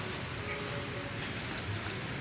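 Steady rain falls at a construction site during plastering work, a dense continuous hiss of drops on surfaces with no voices.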